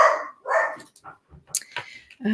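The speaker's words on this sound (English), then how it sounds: "Oh, the dog going again." A dog barks in several sharp, close bursts in a quiet indoor space, the barks spaced irregularly with short gaps, followed by a few yips.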